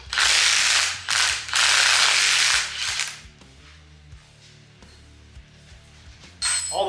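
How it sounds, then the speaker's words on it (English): Ratchet wrench on a Wheel Horse 8-speed transmission held in a vise, removing the case bolts: loud bursts of rapid clicking in three runs, then quieter metallic handling and a final short ratchet burst. "we're gonna take out the case bolts so we can split it in half"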